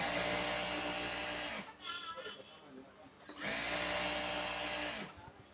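A sewing machine stitches cloth for palazzo trousers, its motor running in two steady whirring bursts separated by a short pause filled with quieter handling sounds.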